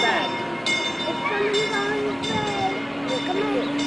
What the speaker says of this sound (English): He's coming. I see the train.